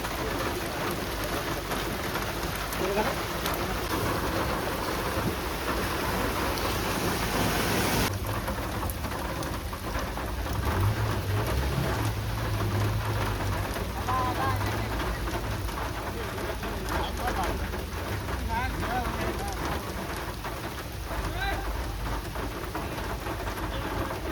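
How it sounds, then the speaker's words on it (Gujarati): Heavy rain pours down steadily on a village in Gujarat, India, in a dense, continuous hiss, with low rumbles of thunder rolling underneath. "ગોઠણ ગામમાં બહુ વરસાદ પડ્યો છે ભાઈ"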